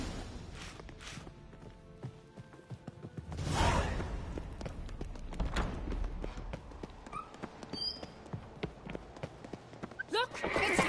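Horse hooves clip-clop at a walking pace with scattered footsteps, swooshes and a brief whinny, as riders set off in a chase; voices speak briefly over the sound.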